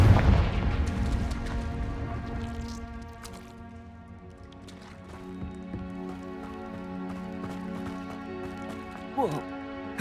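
Confringo spell blasts in Hogwarts Legacy: a heavy booming explosion at the start that rumbles and decays over several seconds, followed by lighter crackling debris and a brief later impact.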